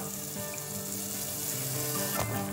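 A tablespoon of butter melting in a saucepan gives a soft, steady sizzle, quiet and continuous, with one brief clink near the end and no talking.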